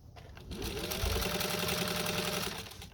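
Singer 15J sewing machine stitching at a longer stitch length, a steady, fast, mechanical whirring with rhythmic needle chatter, close and continuous for a few seconds.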